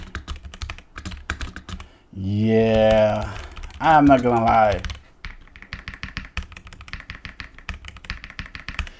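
Rapid clicky typing on an ASUS ROG Azoth mechanical keyboard, close and crisp, pausing while someone speaks briefly in the middle before the clatter resumes.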